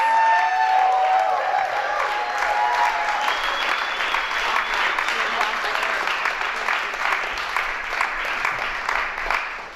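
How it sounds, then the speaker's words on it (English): A comedy club crowd at a benefit show in Asheville breaks into sustained applause. It starts loud and full, then holds steady for about ten seconds with dense, even clapping. "Everybody give my friend Jen Snyder a big round of applause."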